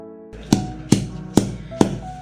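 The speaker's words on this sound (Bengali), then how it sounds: "থানকুনি পাতা দিয়ে দিলাম, দিয়ে আমি শিলে বেটে নেব।" Centella leaves being pounded and crushed on a stone grinding slab, five sharp, evenly spaced thuds close by, with a faint tone under the first half and no talking.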